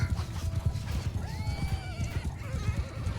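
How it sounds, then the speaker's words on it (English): Horses in the Bannerlord video game (patch 1.3.1) whinny repeatedly over a steady clatter of hoofbeats and battle din, with the neighs rising and falling in the middle and a clip-clop rhythm running throughout. "I think I killed a horse."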